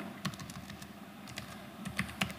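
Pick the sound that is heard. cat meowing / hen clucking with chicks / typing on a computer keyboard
typing on a computer keyboard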